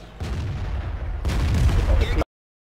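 Tank gunfire in World of Tanks during a Vk 30.02 D battle, two loud booming bursts with rumbling tails, the second heavier, cutting off abruptly into silence.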